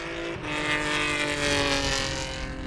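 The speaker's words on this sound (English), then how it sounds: "it's a 3-litre V6 Jaguar engine, and it makes some pretty serious noise" A race car with a 3-litre V6 Jaguar engine roars close by, a loud sustained, buzzing, tonal engine note that swells slightly after a brief dip and holds steady, with no talking.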